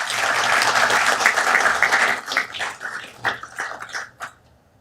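Audience applause in a city council meeting chamber, a full, even roar of clapping that holds steady, then thins into scattered claps and dies away.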